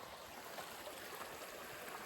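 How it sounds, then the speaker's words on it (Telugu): An outdoor stream flows during a fishing outing, a faint, even rushing wash of water heard from a short distance with no other sounds. "వాటర్ సౌండ్ వినిపిస్తుందా మీకు?"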